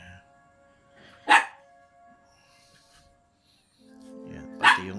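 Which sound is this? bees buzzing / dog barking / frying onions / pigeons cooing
dog barking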